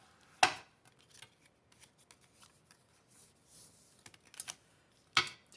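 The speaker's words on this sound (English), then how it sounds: "I'm going to go ahead and run my bone folder across there one more time" A bone folder is pressed and run along a crease in folded paper, producing quiet scrapes and rustles broken by a few sharp, crisp clicks and snaps, with no one speaking.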